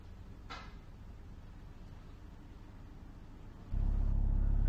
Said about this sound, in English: sitting in the car with the engine running